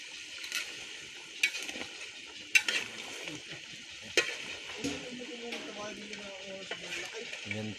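Fried pork cracklings made from rendered fat are tipped into a pan of puchero being prepared for a 60th birthday, giving a steady background sizzle with a few sharp clinks and scrapes of a utensil against the pan.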